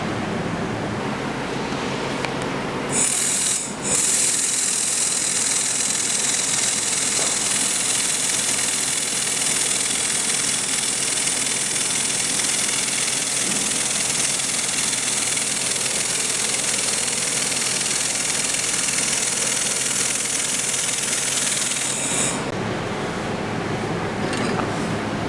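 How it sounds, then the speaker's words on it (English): A 2000W laser welding machine runs on stainless steel plate, a loud, unbroken broadband hiss and hum that starts abruptly, holds evenly for about twenty seconds, then cuts off, with a low machine drone beneath and no talking. "Now we are going to weld from the outside."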